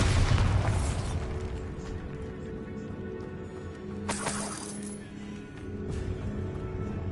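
A Bombarda explosion spell in a Harry Potter video game lands with a heavy, close boom at the start, then rumbles away, followed by a brighter crackling burst midway over a low game ambience.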